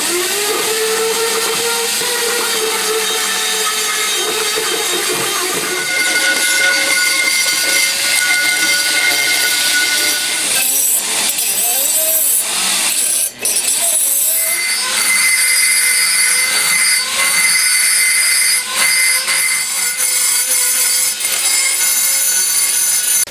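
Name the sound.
grinding down a cast cylinder head of a 125cc engine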